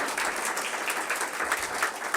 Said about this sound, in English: y'all can clap for him too if you want to